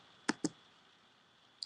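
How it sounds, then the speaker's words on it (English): Mouse or key clicks from someone multitasking late at night: two sharp close clicks in quick succession, then a lone fainter click a moment later, over quiet room tone. "I am clicking. That's what that noise is."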